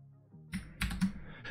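Keys clack on a Commodore 64 keyboard in a short burst of typing, several crisp close presses in quick succession against a quiet room.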